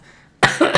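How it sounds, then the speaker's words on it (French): One sharp, loud cough bursts out close to the microphone after a quiet moment and is followed by a brief second hack. "ça m'a fait tousser en plus."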